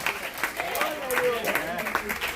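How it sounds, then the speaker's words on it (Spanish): A church congregation applauding, brief scattered clapping at moderate loudness mixed with a preacher's voice and crowd murmur. "¿Cuánto le dan un aplauso al Señor?"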